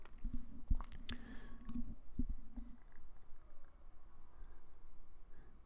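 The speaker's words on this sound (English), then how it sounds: "You can see we're cutting in the edges with the brush." A brush cuts in polyaspartic coating along the edges of a basement floor, making wet squishing and dabbing strokes with a few sharp clicks early on, then a soft steady smear.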